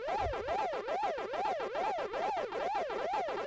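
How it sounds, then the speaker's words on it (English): A repeating electronic warble from the Pac-Attack game's dot-eating effect, rising and falling in quick regular sweeps, loops continuously at steady volume like a retro arcade chomping effect. "Hey, listen to the dot eating sound."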